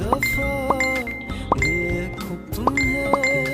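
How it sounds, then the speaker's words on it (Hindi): Short bright chimes ring out several times in a row, spaced irregularly, over a steady background of music or murmur. "उसके फोन पर लगातार 4-5 बार नोटिफिकेशन वाली घंटी बजी।"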